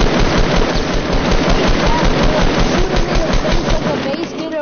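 Dense, rapid automatic gunfire from a Fortnite Battle Royale match, loud and continuous for several seconds, with a player's voice talking over the shooting.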